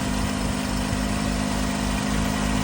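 Steady, unbroken idle of a Mercedes 190E engine restarted after five years of sitting, a constant low rumble with even pulsing, loud and close, with no talk over it.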